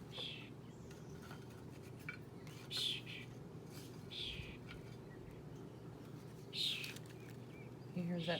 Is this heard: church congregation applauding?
no